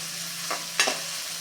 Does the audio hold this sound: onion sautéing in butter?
yes